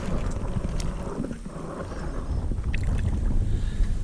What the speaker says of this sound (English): It's too windy right now.